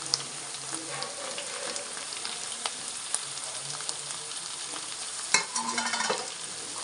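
Marinated chicken with curry leaves frying in a pan, a steady soft sizzle with occasional stirring scrapes and a louder clatter near the end, no talking.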